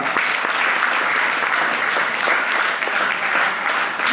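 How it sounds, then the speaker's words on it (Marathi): An audience at a speech on the Indian Constitution breaks into loud, sustained applause, many hands clapping densely and evenly throughout with no pause. "त्या मुलगीसाठी जर जोरदार टाळ्या वाजवा."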